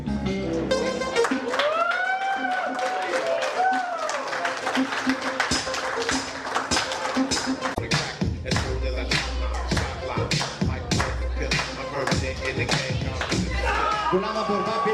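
Wedding guests at a reception in Plovdiv clap together, a burst of scattered then fuller hand claps rising over music and a host's talk in the latter half.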